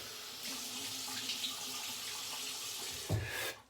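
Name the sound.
tap water running while wetting the face before shaving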